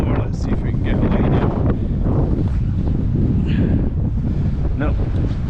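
Steady wind buffeting the microphone beside the River Spey at Arndilly in February, a continuous low roar with no breaks.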